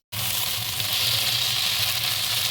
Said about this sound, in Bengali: এখন এই আলুটাকে আমি আদা ভাজা করে নেব।